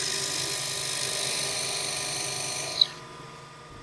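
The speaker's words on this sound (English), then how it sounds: "make a starter hole for the drill bit" A drill bit boring a starter hole in wood on a lathe gives a steady high-pitched whine that runs continuously, then cuts off abruptly near the end, leaving quiet.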